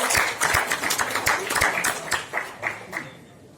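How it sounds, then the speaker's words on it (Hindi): Audience clapping at a wrestling dangal event, with a burst of claps that thins into scattered individual claps, moderately close, and a voice speaking over part of it. "एक बार इन सब के लिए जोरदार तालियां।"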